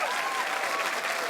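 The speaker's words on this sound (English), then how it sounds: "how about a big round of applause for all of our singles?" Studio audience applause on a dating game show, a brief, even burst of many hands clapping, with a voice calling out over it.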